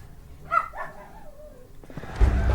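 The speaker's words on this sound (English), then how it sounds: "Sorry for my dog's barking." A pet dog barking in a house, a few muffled barks and whines at moderate distance, followed by a burst of louder background noise.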